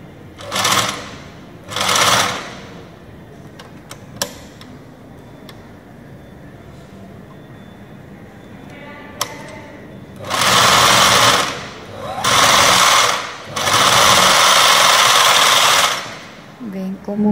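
Willpex FN2 mini overlock sewing machine runs in five loud, close bursts of rapid whirring stitching, two short ones first, then after a quiet pause with faint clicks, three longer runs, the last sustained for several seconds.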